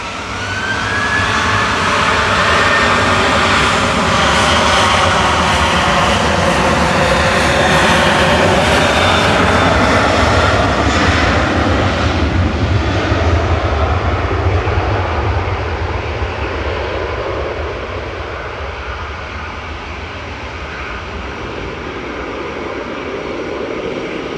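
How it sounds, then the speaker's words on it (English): An EasyJet jet airliner at Manchester Airport roars loudly and steadily for a long stretch, the engine whine sweeping in pitch before easing slightly toward the end, with no voices. "Looks like the EasyJet, the noisy EasyJet that's been waiting on uniform to depart"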